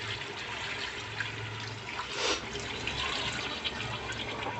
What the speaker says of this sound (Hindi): अब मैं डालूँगी इसके अंदर पानी, 1/2 लीटर पानी इसके अंदर मैं डाल रही हूँ।